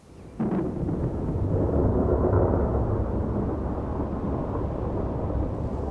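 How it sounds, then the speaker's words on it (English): Steady roar of a thunderstorm with gusty wind and heavy, large raindrops, a sharp crack near the start rising into a dense, continuous low rumble that holds loud throughout. "A thunderstorm can bring gusty winds and large raindrops."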